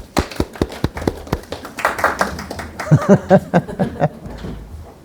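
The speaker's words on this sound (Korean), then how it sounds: "박수 치세요." Audience clapping at a writer's lecture held in a hall, a burst of scattered hand claps rising into a fuller round of applause with a few light chuckles mixed in.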